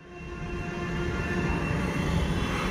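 A Kanpur Metro train runs along an elevated track, its rumble building over the first second and then holding at a steady, fairly loud level with a faint tonal whine; no one speaks.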